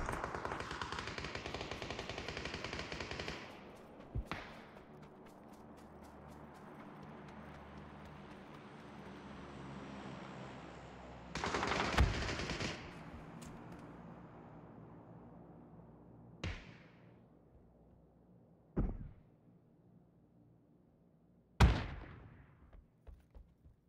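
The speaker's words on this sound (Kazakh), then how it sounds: "По ним работает глушака" Suppressed gunfire in PUBG, short sharp bursts spaced apart: a long burst at the start, another mid-way, then single loud cracks, separated by quiet stretches of distant rumble.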